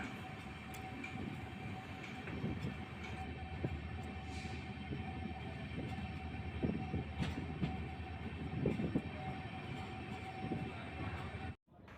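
An express train on the Mysuru–Shirdi route pulling into a station platform, a steady, loud rumble and rattle of wagons rolling past for the whole stretch, close by with faint clicks and no talk.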